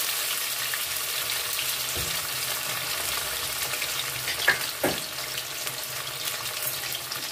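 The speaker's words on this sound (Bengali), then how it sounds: "এটাকে এবার একটু ভালো করে ভেজে নেব" Chitol fish muitha dumplings fry in hot oil with a continuous, even sizzle. Two brief knocks of stirring or turning sound close by, and no voices are heard.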